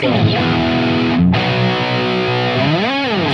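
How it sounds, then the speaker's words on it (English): A distorted electric guitar, a Jerry Cantrell Rampage replica, plays loud sustained chords close up, with a tremolo-bar dip near the end. "We'll start off with some distorted tones here."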